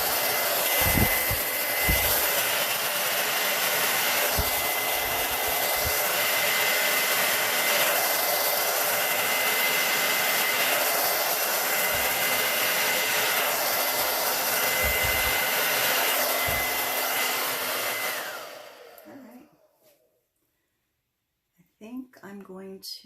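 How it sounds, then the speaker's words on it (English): A blow dryer set on high blasts steadily and loudly for about eighteen seconds, pushing paint into a spin bloom pour with cell activators, then cuts off, leaving near silence and a few faint handling clicks. "I'm going to have my blow dryer on high."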